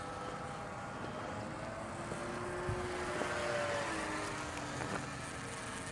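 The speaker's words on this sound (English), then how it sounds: "Okay, Willard, if I can stay on this little plane zoomed in, you can stay on the big plane" A J-3 Cub RC model plane flies overhead outdoors, its small engine giving a steady buzzing drone with a faint rising and falling whine as it passes, heard at a distance throughout.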